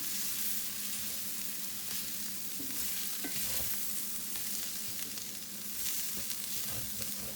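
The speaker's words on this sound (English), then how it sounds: "now I'm going to mix all of this together" A veggie and meat mixture is stirred in a very hot pan, giving a close, continuous sizzle broken by scraping and clanking of the spoon against the pan.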